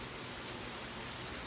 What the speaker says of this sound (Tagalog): And still, ang lakas pa rin ng ulan. At mahangin pa.